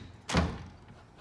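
A resort double door's latch releases with one sharp, close knock-like click and a brief thud that quickly fades into quiet room tone.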